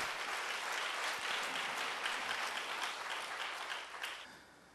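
A church congregation at a Wednesday worship service breaks into sustained applause, a dense, even wash of many hands clapping that fades slightly toward the end, with no talking over it.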